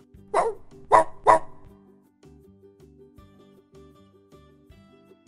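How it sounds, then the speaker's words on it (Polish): Three sharp dog barks in quick succession, fairly close, followed by a softer low tonal hum with faint intermittent sounds. "pies."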